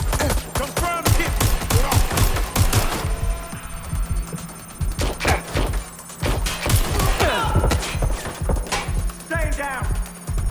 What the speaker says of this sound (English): Taking fire! They're shooting at us!